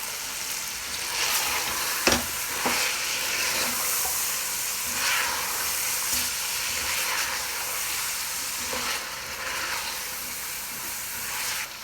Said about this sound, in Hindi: अब हमें चिकन को भूनते हुए अनियन के साथ 10 मिनट हो गए हैं।